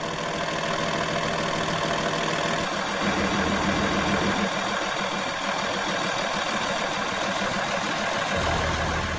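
A Cummins ISC 8.3-liter diesel in a 2007 Kenworth T300 truck idles steadily throughout, a constant loud rumble with a slight knock and no talking.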